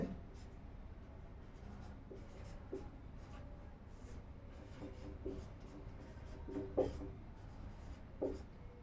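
Pen or pencil writing out a line of Hindi text on paper, with soft continuous scratching strokes and a few slightly louder taps, close and quiet, no voice.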